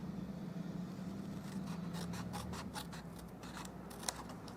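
Scissors snipping through a paper template at close range, a quiet run of sharp crisp cuts in a rapid rhythm over faint room hiss, alone with no talking.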